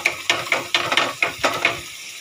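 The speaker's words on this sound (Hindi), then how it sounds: "अब मैं इसको इधर फ्राई कर रही हूँ।" Mustard seeds, dried red chillies and garlic paste frying in a pan, with a rhythmic run of about eight scraping stirs over a bright sizzle, close and loud, then trailing off into a quieter hiss with no talking.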